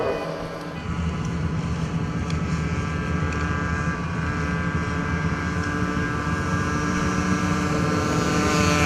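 Several 50cc air-cooled flat track motorcycles race at the Peoria Classic, their buzzing engines forming a steady, dense whine that swells and holds throughout with no talk over it.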